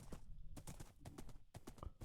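Horse hooves in Minecraft clip-clop as a quick, steady run of close hoofbeats while riding, with a faint whinny-like tone and no talking.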